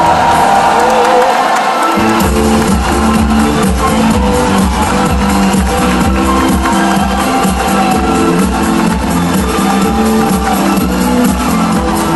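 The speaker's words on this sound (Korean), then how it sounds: "뜨거운 박수로 맞이해 주시기 바랍니다" A large crowd claps and cheers loudly, a dense continuous roar of applause with whoops, sustained after a brief quieter start, greeting a candidate at a Democratic Party campaign rally in Cheongju Gymnasium, South Korea.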